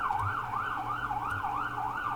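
An ambulance siren arrives outside an apartment block, its wailing tone sweeping steadily up and down, loud and continuous throughout with a low traffic rumble beneath.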